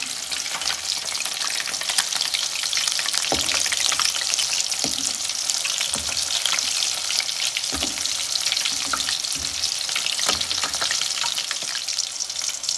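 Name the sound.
chicken 65 frying in oil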